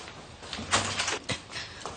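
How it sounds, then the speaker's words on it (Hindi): A door is opened indoors in a home. It makes a few quick knocks and scrapes, with a brief sliding rattle in the middle and a couple of sharper clunks, all close by and fairly quiet. "माँ दरवाजा खोलिए"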